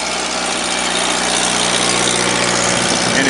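A soft serve ice cream food truck engine idles steadily, a loud, continuous broadband rumble with a constant hum and no talking over it.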